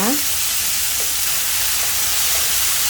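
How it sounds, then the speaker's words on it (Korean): Salted, squeezed zucchini is stir-fried in a hot pan, giving a loud, continuous, close sizzle with faint scraping from stirring. "네, 살짝만 볶아줍니다."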